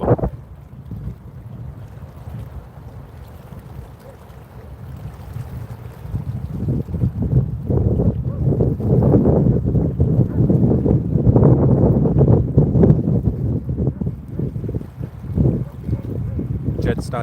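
Gusty wind buffets an outdoor microphone at Sydney International Airport, a low rumbling roar that builds from moderate to strong and stays loud and continuous throughout.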